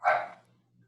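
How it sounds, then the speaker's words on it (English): A single dog bark, fairly close and clear, rising sharply and fading within half a second, followed by quiet with a low steady hum underneath. "That's a vicious dog."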